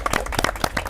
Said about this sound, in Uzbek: Qarsak bo'lsin.